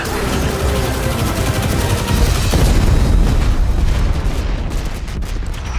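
Dense, continuous barrage of gunfire and explosions while attacking turrets in the Destiny 2 video game, loud and relentless throughout with no pause.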